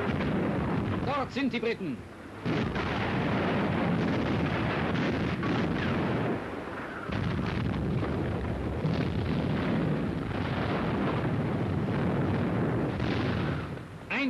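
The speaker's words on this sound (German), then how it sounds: "Einschläge der feindlichen Artillerie." Enemy artillery shells strike as British destroyers attack a U-boat, a continuous heavy rumble of booms and blasts with a voice speaking over it.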